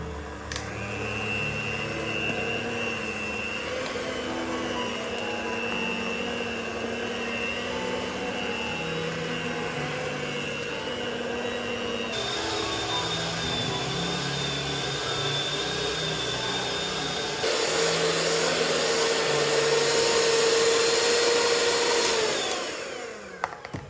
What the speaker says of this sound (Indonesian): Kita lanjutkan mixer sampai kalis.